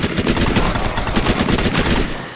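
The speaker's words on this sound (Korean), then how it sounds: "총소리 엄청나네" Rapid gunfire rattles in the video game Shattered Skies, a loud, dense run of automatic shots at a steady fast rhythm for about two seconds before tapering off.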